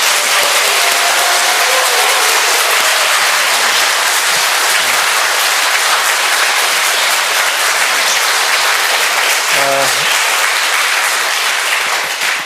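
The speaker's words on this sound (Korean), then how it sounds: "이렇게 또 열렬한 박수로 맞이해 주셔서" A church revival congregation greets the arriving preacher with loud, enthusiastic applause that holds steady and close for the full stretch.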